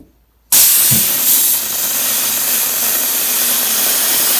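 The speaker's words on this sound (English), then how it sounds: "Now we're going to steam it." A jewelry steam cleaner's loud, steady hiss bursts on abruptly after a brief silence while steaming polishing compound off a ring, holding continuously to the end, close and even.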